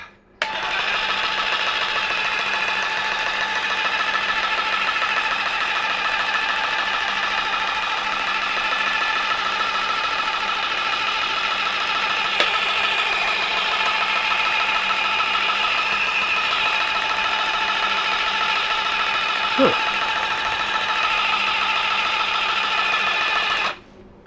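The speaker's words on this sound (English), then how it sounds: "18 volt jigsaw. Try that one with the battery now." A Ryobi 18 volt cordless jigsaw runs nonstop close by, a loud steady buzzing motor whine with a rapid vibrating blade chatter, starting abruptly and cutting off at the end, with a faint click partway through.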